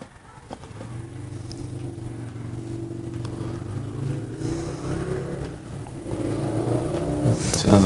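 A motorcycle rides by somewhere in a neighborhood, heard over a steady engine drone that grows louder toward the end of the clip, with no talking.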